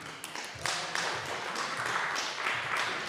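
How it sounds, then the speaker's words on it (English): Conference audience claps to welcome a speaker to the stage, a fairly quiet, steady patter of many hands from a medium-sized room, with no talk over it. "Big applause for him."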